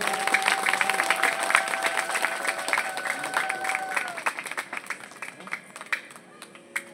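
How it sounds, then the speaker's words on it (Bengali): A crowd at a devotional kirtan performance breaks into applause in a continuous patter that thins toward the end, with a sustained instrumental drone and talking beneath it. "সকলে আর একবার একটু জোরে হাততালি দেবেন।"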